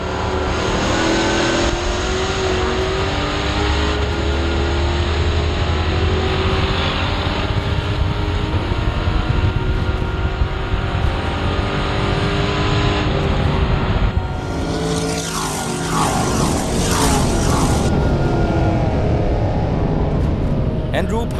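NASCAR Pinty's race cars roar around the track at close range, engines revving and droning without a break, the pitch changing as cars pass, with a commentator talking over the noise.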